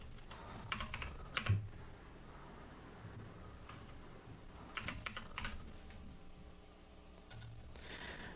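Computer keyboard typing to log in with a one-time password, soft clusters of quick key taps in short bursts with pauses between, faint and close, no talking.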